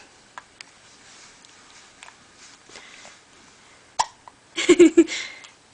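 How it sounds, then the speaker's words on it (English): A baby hiccups: a few soft ticks lead to a close cluster of quick, breathy hiccup bursts near the end, with no words spoken. "That's a hiccup."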